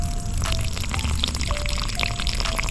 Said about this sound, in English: Give it a little water. Not too much, just enough so they won't die in this heat.